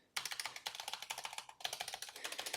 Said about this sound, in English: very fast typing.